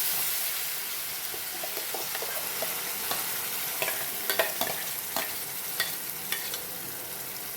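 A soft frying hiss with scattered clicks and scrapes as a spoon stirs spinach chutney in a pan, the taps growing busier midway.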